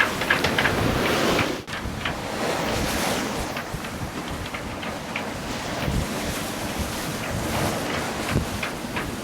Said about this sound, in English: especially in these kind of conditions where it's windy